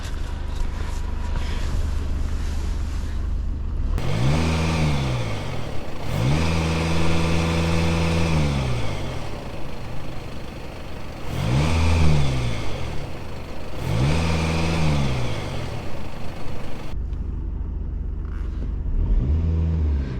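A Skoda Superb Combi 2016 with a 2.0 TDI diesel engine is revved repeatedly while parked. Four or five rising and falling bursts each stop abruptly at a rev limiter, loud and close, with steady idle between them.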